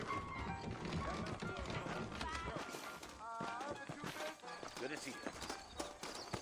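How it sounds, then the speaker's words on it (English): Saddled horses clip-clopping in the Red Dead Redemption video game, with quick hoofbeats running beneath a steady in-game music bed while a character speaks briefly. "I got the horses saddled up and ready out front."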